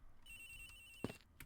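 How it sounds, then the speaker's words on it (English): Cell phone ringtone ringing in the Ace Attorney Investigations video game, a steady electronic tone held quietly for over a second, broken near the end by a couple of soft thuds. "Agent Hicks's phone is ringing from somewhere, sir"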